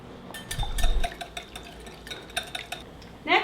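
Whisk tapping and clinking quickly in a bowl of milk, an irregular run of light metallic ticks against the side, close and moderately quiet, ending in a brief brighter scrape.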